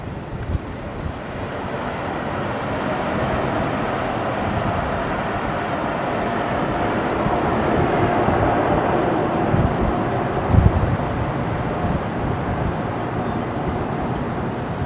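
An airliner landing on runway 27R at London Heathrow gives a steady, broad roar of engine and air noise that swells slightly midway, heard from a distance with no talk.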